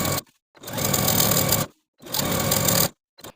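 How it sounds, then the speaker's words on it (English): A sewing machine edge-stitches a dress hem near serged stitching, running in two steady bursts of about a second each with brief pauses between, close and alone. "take this to my sewing machine and edge stitch close to the serging stitches all the way around the dress"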